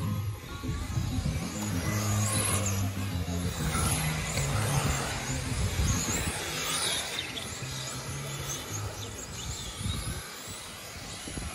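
1/10 scale electric touring RC cars racing at a track, a steady whining motor drone with rising and falling pitch as cars pass, continuous and fairly loud throughout with no speech.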